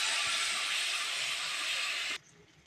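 A paste of ginger, radhuni and chilli with turmeric and salt hits a hot pan with a loud, steady hiss, then cuts off abruptly into quiet.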